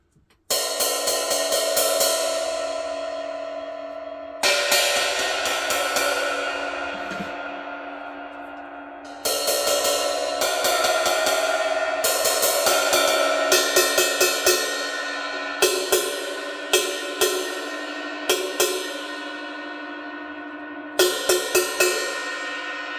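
A 22-inch bronze cymbal with a small bell is struck repeatedly, each hit ringing out in a long bright shimmering wash that decays slowly. The later hits come in quicker clusters, loud and close, with no talking.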